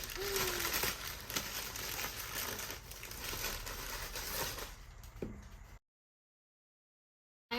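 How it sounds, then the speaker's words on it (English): A cardboard shoe parcel box is sliced open, with dense crinkling and scraping of box and packaging for about six seconds at close range, then a sudden cut to silence. "I'm just gonna cut it through"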